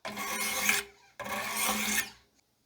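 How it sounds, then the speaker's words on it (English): A knife blade is drawn along a 600 grit stone on a Wicked Edge Generation Pro 4 sharpener in two long, close, raspy strokes, each about a second, with a short pause between and no talking. "Moving over to the 400, 600 grit. Just finishing up with the 600."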